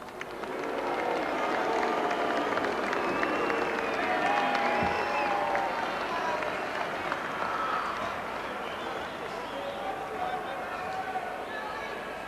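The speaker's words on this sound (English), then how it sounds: "thanks very much for that ovation there" A big stadium crowd at a 1993 Australia versus New Zealand rugby league test at Lang Park roars and applauds in a steady, loud ovation, with announcer talk over the top.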